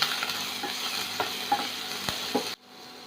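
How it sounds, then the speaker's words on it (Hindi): Onions, green chilies, cabbage, carrot and capsicum stir-fried in a pan for restaurant-style veg Manchow soup, giving a steady close sizzle broken by scraping spatula strokes, then cut off abruptly near the end. "इसमें गोभी, गाजर और शिमला मिर्च सभी को हमको स्टर फ्राई करके लेना है"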